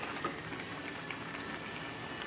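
Carrot halwa cooking in a pan over a high gas flame, with a soft continuous sizzle and bubbling and faint scattered pops, quiet and steady, with no talk.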